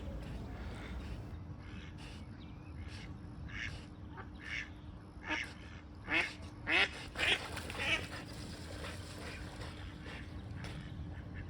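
Ducks quacking in a city park with resident wildlife, a run of several loud, close quacks in the middle of the clip over steady outdoor background noise.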